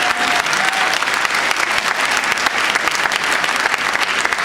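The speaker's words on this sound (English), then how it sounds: "please hold your applause till the end of the speaker" Audience applause at a public hearing in New York City, loud, dense clapping from a large crowd that carries on steadily without pause.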